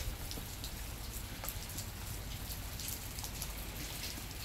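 Heavy rain driven by wind pours down outside a house, a dense, constant roar of drops hitting surfaces with scattered sharper patters, unbroken and close, with no voices.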